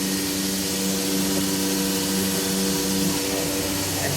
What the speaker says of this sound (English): now we're going to hit the vacuum